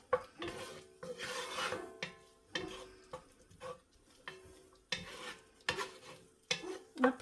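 Onions cooking in a pan on a gas stove give soft sizzling under bursts of stirring and scraping, with a few clinks of utensils against the pan; no one speaks.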